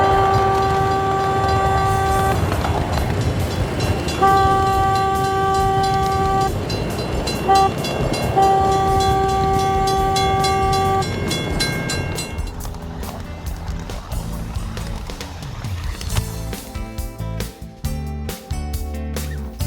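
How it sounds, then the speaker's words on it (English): Train horn sounding a crossing signal, two long blasts, one short and one long, loud and close over the rumble of rolling rail cars. The steady clatter of wheels on track continues after the horn stops. "Sound all horns or whistles at all W signs."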